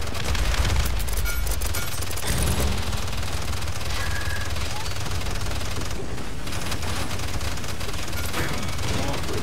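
Gunfire in the video game Paladins, a dense, continuous rattle of rapid shots and impacts layered with game effects, loud and unbroken throughout, with a voice talking now and then underneath.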